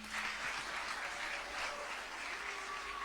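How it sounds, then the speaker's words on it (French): Applause fills a church as the congregation welcomes its new parish priest at a canonical installation Mass, a steady crowd clapping that carries on without a break from start to finish. "Nous saluons la nomination de notre curé par des applaudissements, bien sûr."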